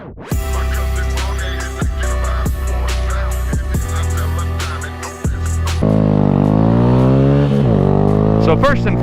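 A Honda Grom mini bike riding downhill on the technical side of a twisty mountain road, its small engine revving and shifting through gears with rising pitch sweeps, then droning steadily under wind, loud and close.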